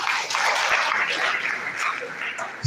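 A hall audience applauds Professor Khadija Haliru at a Nigerian governance event, with full, loud clapping from many people that tapers slightly toward the end before a brief bump at the close.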